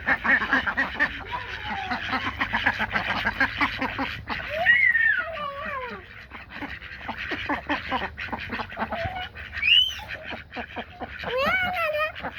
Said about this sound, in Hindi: जिया फातिमा और मोहम्मद शाह ने मुर्गियों बतखों को दाने जो है यहाँ पे डाल दिए।